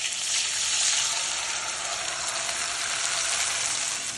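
Ground rice and cloves tossed into a hot kadhai for rice kheer, giving a continuous close, bright dry sizzle and hiss with no talking.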